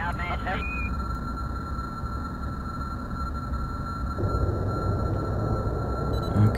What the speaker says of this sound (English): So we're running just on the jet engines.